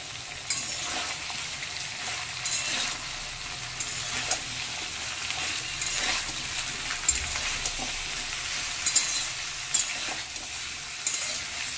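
Pumpkin stalks frying and being stirred in a pan over low to medium heat for a mixed vegetable dish, a steady close sizzle with repeated scraping stirs throughout and no voices.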